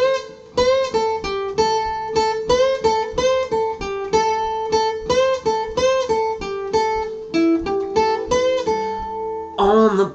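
Guitar plays a song, close and clear, a bouncy rhythmic pattern of plucked notes and short choppy chords with brief gaps between strokes, no voice over it.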